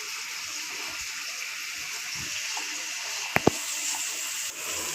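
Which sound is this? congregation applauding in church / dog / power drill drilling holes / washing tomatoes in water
washing tomatoes in water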